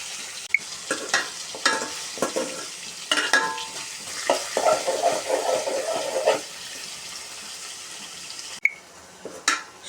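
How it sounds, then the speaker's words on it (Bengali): Spices with washed vegetables, raw papaya and potato are stirred and sautéed in a pan for fish curry. A spatula scrapes and clatters repeatedly over a loud, bubbling sizzle close by, ending with a sharp knock. "এখন কষিয়ে নিব সব কিছু দিয়ে।"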